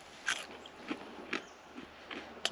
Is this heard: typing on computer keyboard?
no